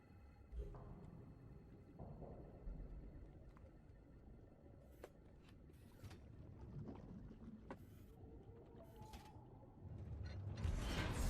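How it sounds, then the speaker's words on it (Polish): Door mechanism in Resident Evil 6 groaning and creaking open, with a few sharp clanks along the way and a louder grinding rush near the end. "Łatwo było otworzyć te drzwi."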